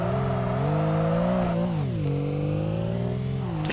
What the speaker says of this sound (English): the naturally aspirated engine that this has sounds really,